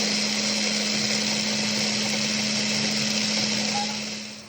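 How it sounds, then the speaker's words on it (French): A steady, loud electric whir of a food mill or blender running continuously while preparing trout meunière, with a constant hum throughout that fades slightly at the end. "Donc là, on mouline"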